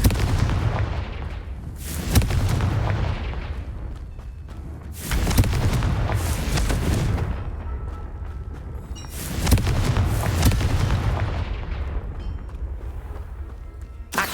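Confringo fire spell blasts in the video game Hogwarts Legacy: three heavy booming explosions, each rolling off into a fading rumble, with quieter gaps between them and no talking.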